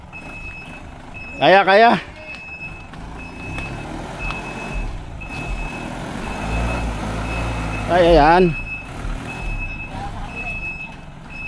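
A new truck's reversing alarm beeps steadily in the background at a rural septic tank build, while two brief bursts of loud shouting and a rumbling engine swell in the middle.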